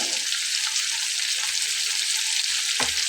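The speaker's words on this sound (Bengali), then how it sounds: "যেহেতু পার্শে মাছটা একটু নরম মাছ হয়ে থাকে, আমি বারবার ঝাঁকিয়ে দিচ্ছি। ঝাঁকিয়ে দিয়ে একটু কড়া করে ভেজে নিলেই হয়ে যাবে।" Parshe fish frying in a pan, a steady bright sizzle of hot oil running throughout, with a brief louder clatter near the end as the pan is shaken.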